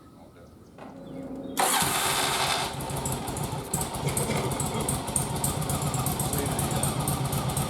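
A cold Yamaha Virago XV920R chain-drive motorcycle engine cranks and catches, then settles into a steady, loud idle close by while someone talks over it.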